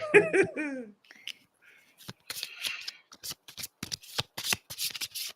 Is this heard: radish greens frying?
no